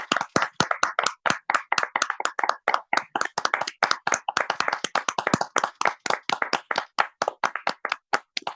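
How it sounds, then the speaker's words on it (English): A crowd at a product launch event claps in a brisk, fairly even rhythm of distinct hand claps, close and clear, continuing without a break and with no talking over it. "Let's give this a big round of applause, ladies and gentlemen."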